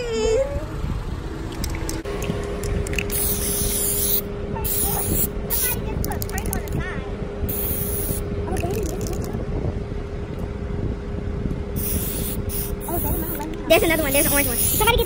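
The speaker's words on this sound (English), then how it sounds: "See if you can spray up high." Long steady hissing from a spray paint can spraying a car runs almost continuously, with brief breaks and bursts of talking layered over it.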